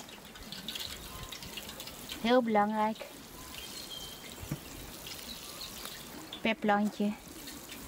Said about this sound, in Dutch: Goed, ze staan erin. Goed water geven.